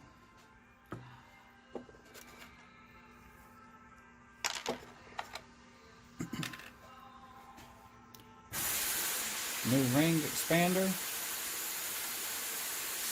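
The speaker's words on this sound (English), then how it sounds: "The air compressor is blowing off the moisture right now." Someone speaks over faint background noise with a few clicks during a transmission shift kit installation on a Ram R/T, then a loud steady hiss of an air compressor blowing off moisture takes over for the last few seconds.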